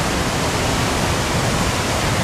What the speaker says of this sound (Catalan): la gran catarata, la gran cascada. El soroll és impressionant, es pot sentir des d'aquí